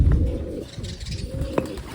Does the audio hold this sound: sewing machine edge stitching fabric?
no